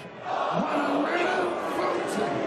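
A darts crowd at the 2014 World Darts Championship roars and cheers after perfect darts, a dense, loud wall of voices swelling in and holding steady.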